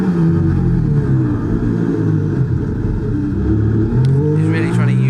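An F1 car's engine whines under throttle in an F1 esports racing game at Spielberg, with harmonic tones rising and falling under continuous commentary.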